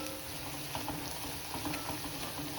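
Spices such as coriander and cumin powder are being stirred into simmering Punjabi chole in a pan, a steady low bubbling and soft scraping that runs unbroken and fairly quiet throughout.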